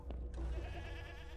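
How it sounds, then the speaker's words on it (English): A goat bleats in the video game Mundaun, a short wavering cry over a low background hum, fairly quiet. "That goat."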